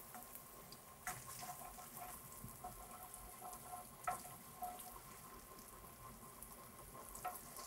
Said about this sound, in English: I'm gonna deglaze it